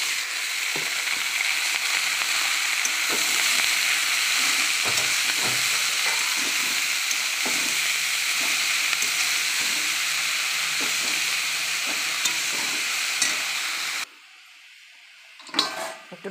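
Bathua greens frying in a pan give a dense, continuous hiss and sizzle, loud and close for about fourteen seconds before cutting off to near silence with a brief final clatter.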